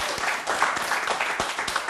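A room audience gives a brief burst of applause at a lecture, many hands clapping quickly in a loose, close patter for a couple of seconds.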